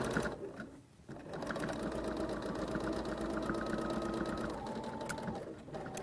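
A sewing machine stitches a square on a pocket, running steadily and close for several seconds with a mechanical hum after a brief dip at the start.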